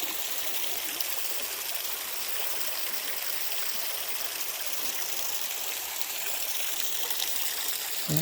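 Spring water trickles steadily from a leaking pipe outdoors in a green valley, a continuous broadband hiss of flowing water for the whole stretch, close and even with no pauses.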